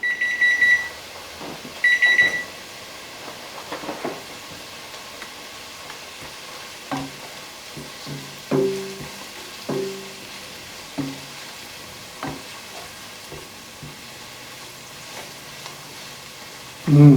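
Onions and carrots sauteing in a pan for a bean and sausage soup, a soft steady sizzle with occasional stirring clicks and a few faint beeps near the start, no talking.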